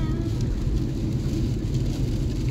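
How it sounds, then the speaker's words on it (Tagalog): Steady, dense rain pours down at Lake Louise, Canada, in a continuous low rumbling hiss, heavy and unbroken, with no voices. "Lakas ng ulan."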